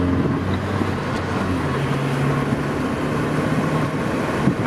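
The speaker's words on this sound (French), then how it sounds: "Nous allons ensemble voir sur une ligne droite l'accélération." A Renault Twingo accelerates along a straight road, its engine a steady continuous drone with rising tonal whine, heard close and fairly loud with no talk.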